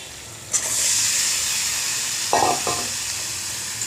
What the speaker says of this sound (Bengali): এবার মোচা এবং আলু দুটোই দিয়ে দিয়েছি একসাথে। এবার আস্তে আস্তে নাড়তে থাকবো।